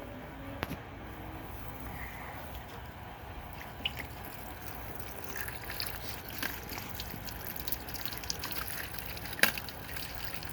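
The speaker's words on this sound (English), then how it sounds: "run a little water on this one real quick" Water runs and trickles over freshly tumbled rock, a soft steady splashing with occasional drips and small knocks, close but quiet, with no talking.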